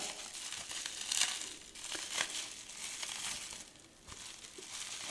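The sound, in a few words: unwrapping taped bubble wrap from a lighter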